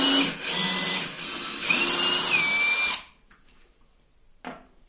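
A DeWalt DCD7771 brushless cordless drill driving a screw, a loud close whine with rising pitch for about three seconds that stops as it reaches its torque limit, followed by quiet and a brief clack.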